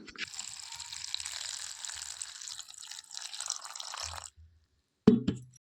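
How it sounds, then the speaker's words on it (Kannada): Drumstick leaves being washed in water: a steady close splashing and trickling runs for about four seconds, then stops, followed by a single brief knock or thud. "ಈಗ ವಾಟರ್ ಹಾಕೊಂಡು ತೊಳ್ಕೊತಾ ಇದ್ದೀನಿ"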